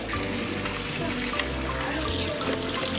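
Tap water runs steadily into a kitchen sink as potatoes are rinsed, a close, continuous splashing rush with no breaks.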